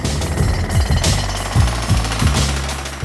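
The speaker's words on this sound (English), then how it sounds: "We had to widen those with jackhammers." Jackhammers pound at layered concrete in a collapsed building during an earthquake rescue, a loud, continuous mechanical hammering with rapid rhythmic bursts, close and alone without speech.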